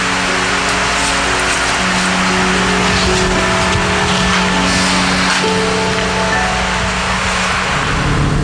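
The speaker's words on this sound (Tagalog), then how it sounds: "Itigil mo muna yung kotse!" A car drives steadily and loudly through the whole stretch, with a continuous engine drone and road noise and no talk over it.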